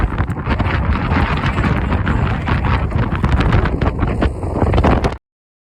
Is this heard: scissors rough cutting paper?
no